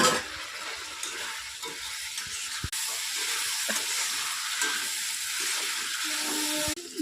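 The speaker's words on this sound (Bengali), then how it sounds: "এবার দেবো চিকেন" Chicken dropped into oil-released spice paste of ginger and garlic for Bengali chicken kosha, a steady hissing sizzle with a few sharp clatters from the pan, moderately loud and close.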